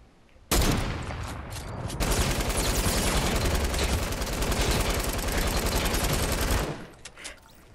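Sustained rapid-fire bursts from a light machine gun and a drum gun in a shooter video game ring out loud and close, starting abruptly, continuing densely for about six seconds, then cutting off.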